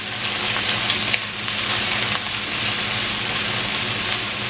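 Garlic and ginger sauté in a hot pan for fried rice, giving a steady, close, loud sizzle with a few brief stirring scrapes and no voices.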